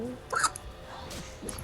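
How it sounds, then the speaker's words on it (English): A person hiccups a few times, short sharp catches close to the mic, with light background sound and no clear talk. "How are you getting hiccups?"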